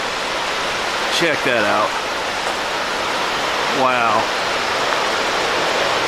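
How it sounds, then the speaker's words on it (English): Cascading water at Glade Creek Falls in New River Gorge National Park rushes in a steady, full broadband roar that runs throughout, with people talking briefly over it. "Waterfall after waterfall after waterfall."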